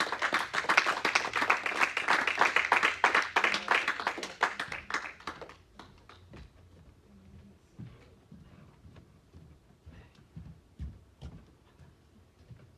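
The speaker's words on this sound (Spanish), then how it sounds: "No sé si le da un aplauso fuerte al Señor" A church congregation applauding, dense loud clapping for about five seconds that then thins out into a few scattered, fainter claps and quiet room sounds.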